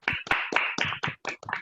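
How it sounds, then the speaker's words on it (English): Sparse hand clapping from a few online meeting participants, about seven separate bursts of claps in quick succession, fairly close and distinct, with no talking. "That you can hear the applause."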